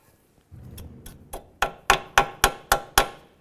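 Cotter pin being bent over and locked on the outer tie rod of a 2002-2006 Honda CR-V, heard as a run of seven sharp metallic taps, each louder than the last, at a steady rhythm up close, with no talk.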